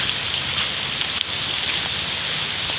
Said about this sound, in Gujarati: વરસાદ ધીમો પડી ગયો છે